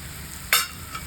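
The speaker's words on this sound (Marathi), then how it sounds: "आता अंडे फोडून घालायची जेवढे तुम्हाला पाहिजेत तेवढी" A single sharp burst of sizzling as an egg is cracked into a hot pan, flaring briefly and quickly settling, with a smaller crackle just after over a quiet background hiss.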